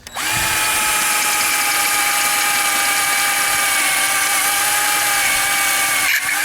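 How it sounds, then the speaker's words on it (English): A power drill with a 5/64 bit runs in reverse, whining at a steady high pitch for several seconds, starting abruptly and cutting off at the end, loud and close, during power window regulator repair. "5/64 drill,"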